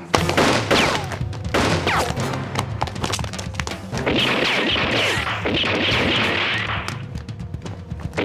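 Gunfire in a 2008 Cantonese TVB period drama, a rapid burst of sharp shots and crashing impacts up front, then a sustained hissing roar, loud and close with no talk.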